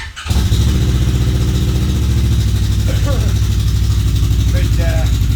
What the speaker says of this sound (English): we can start it up and let you hear the exhaust area. It sounds pretty good.